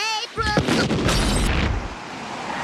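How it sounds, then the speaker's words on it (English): A loud cartoon explosion at the Simpson house bursts in after a brief tonal lead-in, then a sustained roaring rumble that slowly fades over a couple of seconds. "That sounded like an explosion at the old Simpson place."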